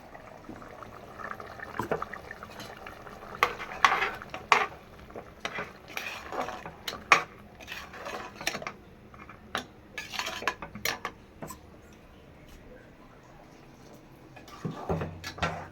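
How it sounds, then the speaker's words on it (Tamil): A spoon clatters against a pot as a ground paste of coconut, fennel, onion and poppy seed is added and stirred into a mutton curry. The sharp metallic knocks and scrapes come in irregular bursts, close up, with no talking. "இப்போ தேங்காய், சோம்பு, வெங்காயம், கசகசா அரைச்சிருக்கோம்ல அதை போடுவோம்."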